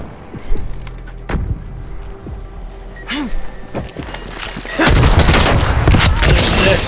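Sentry turret fire in a Call of Duty Black Ops Cold War match: scattered gunshots and thuds early, then a dense, loud burst of sustained automatic fire over the final two seconds, with faint voices in the background.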